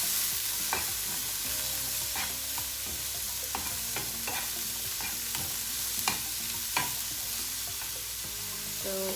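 Mushrooms with black pepper fry on a low flame, a soft continuous sizzle under repeated scraping and clinking stirs of a utensil against the pan, with no voices.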